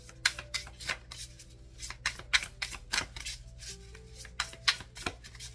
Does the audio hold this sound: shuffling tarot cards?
yes